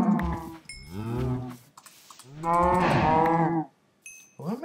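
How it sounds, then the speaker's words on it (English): Several long, deep cow moos, one after another with short gaps, loud and close, clearly synthetic Minecraft game audio. "I forgot I had to kill those cows"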